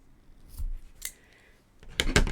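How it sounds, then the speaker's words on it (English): Scissors trimming crochet yarn ends: a few crisp, close snips, a pair early on and a louder double cut at the end, with no talk. "then I'll go ahead and trim these even."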